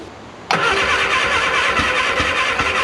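A car engine cranks with starter fluid sprayed into the intake, bursting suddenly into a loud, steady rough churning that holds close by without speech.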